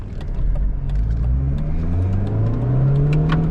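A Mercedes A-Class engine revs steadily as the car drives, the pitch climbing through the gears in a loud, continuous drone with no talking.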